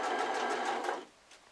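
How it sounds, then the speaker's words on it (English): Sewing machine fitted with a zipper foot stitching down the centre of zipper tape on an iPad case, a close, brisk mechanical whir lasting about a second before stopping, with a small click after. "pop your zipper foot on your sewing machine and we'll just sew down the centre of the tape"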